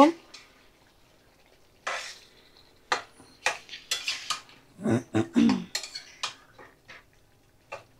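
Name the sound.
stirring fried new potatoes in a pan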